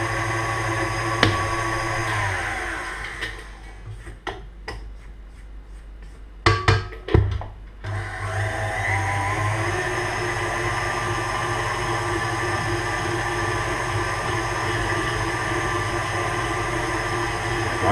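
A stand mixer kneads focaccia dough in its bowl after water is added, whirring steadily. A stretch of louder knocking and thumping comes in the middle before the even motor drone returns.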